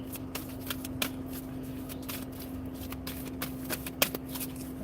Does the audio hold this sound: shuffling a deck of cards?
yes